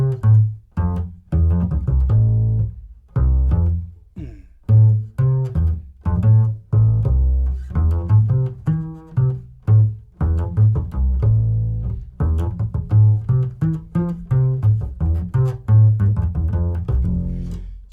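A melody is improvised on chord tones over a single chord, its notes played in lively, uneven phrases with short pauses between runs, close and clear, with no talk.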